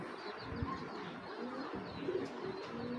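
A medium-sized female racer pigeon coos softly in a loft, low murmuring calls repeating over a steady hum, with faint chirps from other birds nearby and no talk.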